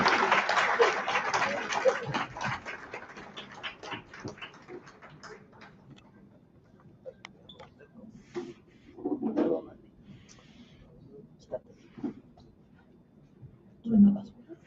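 A short burst of applause at the start of a panel at a communications conference fades out quickly, then a quiet room with a few scattered knocks and shuffles.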